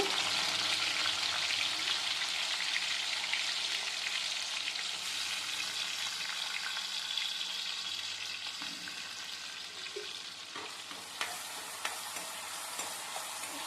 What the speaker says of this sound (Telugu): ఆనియన్స్ వేగనివ్వాలండి కొంచెం